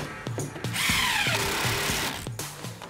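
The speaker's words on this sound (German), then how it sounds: "Einfach in die Ecke ransetzen und durchschrauben." A power drill drives screws into the corner of a homemade wooden planter box, with short whirring bursts, a longer sustained run of the motor, then further brief bursts, loud and close.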